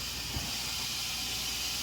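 Broad, steady hiss of steam rising as a metal insert is lowered into a hot pot for frying turkey, close and continuous, with a soft thump near the start.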